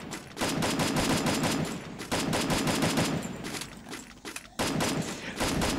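A Thompson submachine gun fires in a video game in long, loud bursts of rapid automatic shots, separated by a few short pauses.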